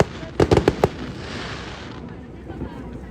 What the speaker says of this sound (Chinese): 这烟火怎么断断续续？